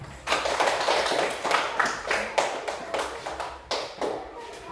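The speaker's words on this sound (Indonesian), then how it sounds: "Tepuk tangan untuk kita semua" A classroom of students applauding together at the end of a lesson, a burst of scattered claps and taps that rises, thins out and stops, with no talking.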